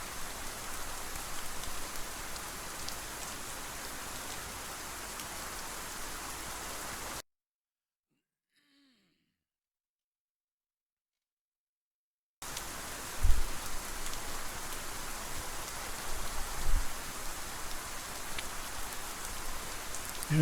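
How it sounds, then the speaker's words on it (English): Rain falls around a UH-60L Black Hawk helicopter at Kandahar in the DCS flight simulator game, a steady faint hiss of drops that cuts out completely for several seconds and then returns with a few low thumps. "we can hear the rain"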